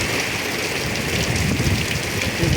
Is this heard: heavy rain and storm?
yes